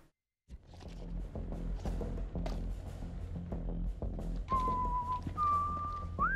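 A whistled tune in the video game House of Ashes, clear tonal notes rising and holding near the end over low rumbling, creaks and soft thuds of the game's ambience, no one talking.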